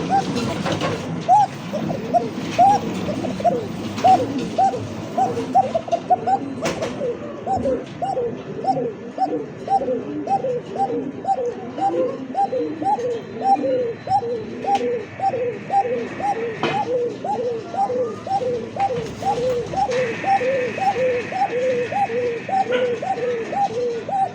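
Lahori and Bombay pigeons cooing in a steady, rhythmic stream of repeated soft coos that carry on without pause, close by, with some faint background noise.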